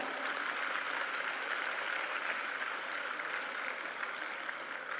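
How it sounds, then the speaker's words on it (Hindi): Audience applause in a hall at a political gathering in Bengal, a steady, even clapping that continues at the same moderate level for several seconds. "ऐसी मेरी बहनों अपने लिए जोरदार तालियां बजाओ"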